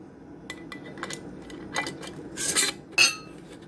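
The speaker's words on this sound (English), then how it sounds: "I'll take a clean lid, put it on there" A clean metal lid is set onto a glass canning jar of sloppy joe meat, with a few light clinks and taps, then a brighter metallic clatter near the end, close and without talk.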